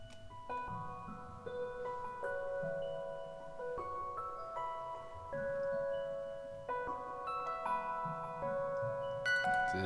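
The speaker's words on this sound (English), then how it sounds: "And now we have the Mysterious Metals Celeste." Omnisphere 2 Mysterious Metals Celeste synth preset plays a melodic line of chiming metallic bell tones, notes stepping and sustaining with a warm low layer beneath, heard alone at moderate level.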